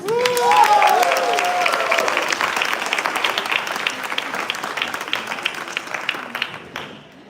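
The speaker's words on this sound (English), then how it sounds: "a thunderous applause for our Greek candidate Konstantinos" A science slam audience gives a loud burst of applause for a speaker, dense clapping with a voice over the start before it fades out near the end.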